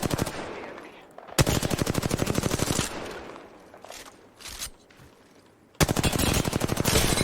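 Automatic weapon fire in the video game Apex Legends plays as two long, loud, rapid bursts of gunfire with a quieter stretch of game sound between them.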